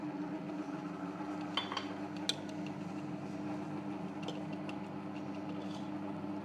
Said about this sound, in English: it's collecting it all and it's going to start to actually knead it